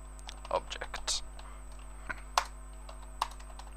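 Computer keyboard typing while coding, a few scattered close key clicks and short bursts over a steady low hum, with a faint voice in the background.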